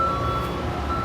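A vehicle's reversing alarm beeps at the SpaceX Starbase site, a steady high electronic tone carried over a low vehicle engine hum, moderately distant and with no talking.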